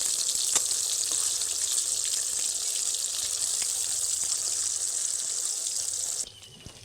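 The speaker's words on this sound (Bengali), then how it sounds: "কীভাবে লাল লাল করে ভাজা হয়েছে দেখেছেন? এইরকম কিন্তু ভাজতে হবে কই মাছগুলোকে।" Koi fish frying in oil in a pan give off a steady, bright sizzle that runs evenly for several seconds, then drops off abruptly near the end.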